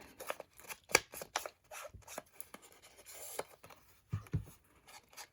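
Scissors trim the white edge off paper for a handmade traveler's notebook insert, making several close, sharp snips with quiet rustling of paper between the cuts.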